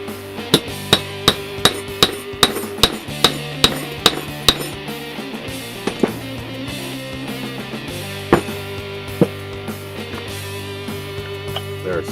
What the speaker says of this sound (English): this piece in here needs to come out, so we're going to hammer that out real quick